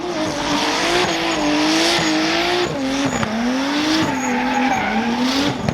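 A drift car run at the Speedland track: a loud, continuous engine note wails and rises and falls with shifts and revs, while tire squeal runs underneath throughout.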